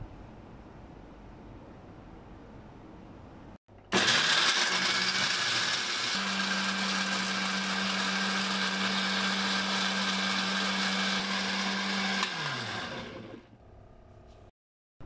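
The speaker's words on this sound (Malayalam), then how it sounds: "ചൂട് പോയതിന് ശേഷം ബ്ലെൻഡറിലിട്ട് ജസ്റ്റ് ഒന്ന് അരച്ചെടുക്കാം." A blender grinds cooled cooked grapes for payasam, starting abruptly into a loud, steady motor whir with a constant hum that runs for about eight seconds, then winds down and stops.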